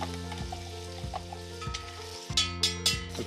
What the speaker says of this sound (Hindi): अब ये दही का पेस्ट चिकन जो आधा पक चुका है ना के अंदर डाल देता।